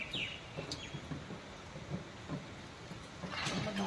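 Steady soft rain hiss in Delhi with scattered drips and patters, a faint bird chirp early on, the wash growing a little louder toward the end.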